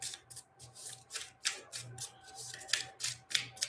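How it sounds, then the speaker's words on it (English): Card deck shuffling in the Pokemon TCG video game: a quick run of soft, papery riffling bursts repeating in steady rhythm, fairly quiet and close, with no voices. "let's shuffle up our deck here"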